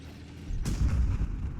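In Battlefield V on the Rotterdam map, an enemy call-in strike lands on the player with a sudden loud blast, followed by a second of rumbling, crackling explosions close by.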